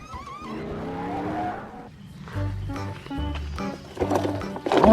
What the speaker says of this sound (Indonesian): Mobil balap McQueen.